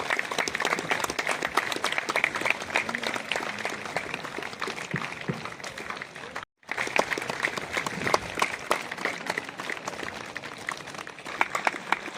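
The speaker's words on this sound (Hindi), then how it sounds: "तालियां आपकी बजती रहें" Audience applause at the opening ceremony of an inter-regional sports competition of the Chhattisgarh Water Resources Department, a dense, steady clapping from a large crowd that runs throughout, broken by a brief dropout midway.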